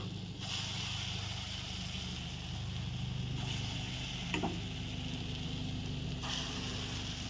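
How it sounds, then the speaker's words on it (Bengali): Bottle gourd fritters fry in hot oil with a steady, dense sizzle and crackle that lasts throughout at moderate volume, with one brief clink partway through. "তেল গরম হয়ে গেছে বসিয়ে দিয়ে এখন আস্তে আস্তে দিয়ে দেবো"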